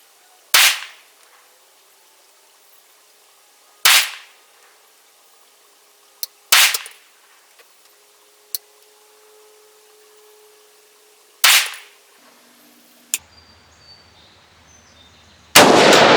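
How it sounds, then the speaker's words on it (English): An IWI Galil Ace 5.56 rifle fires Fiocchi Exacta 77 grain match rounds with Sierra MatchKing bullets at a 100-yard target: five sharp, loud cracks at uneven intervals, separated by near silence. "5 shots at 100 yards."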